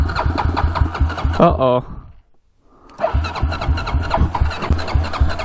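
A Honda 400ex ATV engine runs rough, sputters and cuts out to near silence, then fires back up and idles loudly; a voice reacts briefly as it dies.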